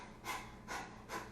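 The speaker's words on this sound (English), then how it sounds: "you want to act like you're panting like a dog" Three quick, rhythmic dog-like panting breaths from a Kundalini breathing exercise, soft and close, each a short airy huff evenly spaced in the quiet.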